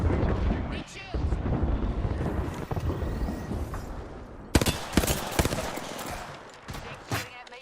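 Dense, overlapping gunfire from a video game firefight, with bursts and bangs in steady succession and sharper volleys toward the end, under a person talking.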